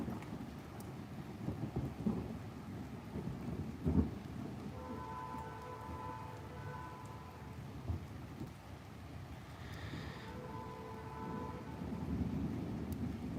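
Rain falls in a steady hiss while thunder rumbles low and distant, with a sharper rumble near the middle, and a faraway train horn sounds faintly in the background.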